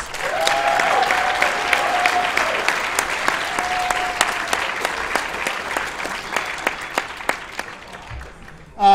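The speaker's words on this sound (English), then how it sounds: "One last round of applause, please." An audience at the 2014 CEDA debate awards ceremony applauds the finalists with a full burst of clapping and a couple of brief whistles, which thins into scattered individual claps before a sudden bump at the very end.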